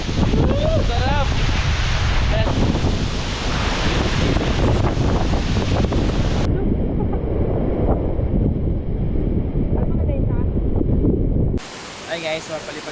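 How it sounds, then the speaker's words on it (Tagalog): Loud, buffeting wind roars against the microphone over a constant rushing of falling water at Malatan-og Falls, Don Salvador Benedicto, Negros Occidental, Philippines, with excited shouts and voices breaking through now and then. "Grabe yung hangin!"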